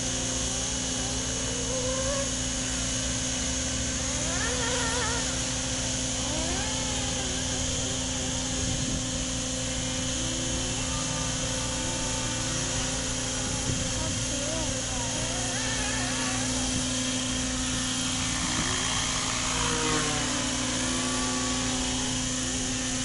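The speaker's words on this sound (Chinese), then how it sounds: "直升機。 睇住啦，就快降落啦！" A helicopter flies overhead and comes down to land, its steady, loud rotor and engine roar running unbroken throughout while people talk over it.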